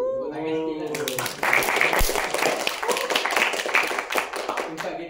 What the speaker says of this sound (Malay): Tepuk tangan sikit lah.